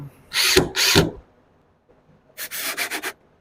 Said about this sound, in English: I'm just going to screw it right to my daughter's wedding present